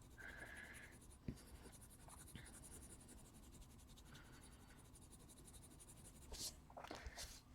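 A Prismacolor black coloured pencil scratches softly across Neenah paper in short strokes, close and faint, with a few small bumps and a brief sniff.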